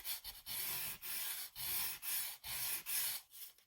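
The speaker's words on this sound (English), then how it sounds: "I might give this a little sand, just a gentle wee sanding" Sandpaper rubs back and forth by hand on a journal cover in steady, rhythmic strokes, about eight passes, soft and close with short pauses between.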